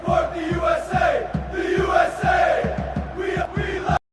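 USA soccer fans in a packed stadium chant in unison, a loud crowd voice rising and falling in a steady sung rhythm with regular accented beats throughout.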